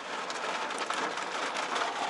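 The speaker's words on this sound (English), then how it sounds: "At the moment, slight thunderstorm, rain." Steady rain falling during a slight thunderstorm, a dense even hiss of drops on surfaces close by, continuous and without thunder over the short stretch.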